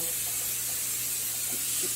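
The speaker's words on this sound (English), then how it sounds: "I'm going to spray it down with some grapeseed oil." Grapeseed oil sprayed from a can onto trays of green beans, zucchini and squash: a continuous close hiss holding steady for a couple of seconds.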